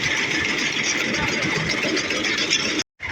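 A tractor engine drives a cleaning machine in a steady, loud, close mechanical drone with a rattling texture, briefly cut off just before the end.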